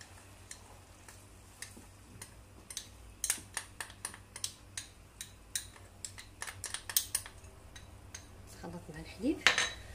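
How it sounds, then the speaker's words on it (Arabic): A spoon stirring milk in a glass, a run of light, rapid metallic clinks and taps against the glass that grow busier midway, with a brief rougher scrape near the end. "غنخلط هاد الكاس اللي بقى عندي هنايا اللي فيه شويه تاع الحليب"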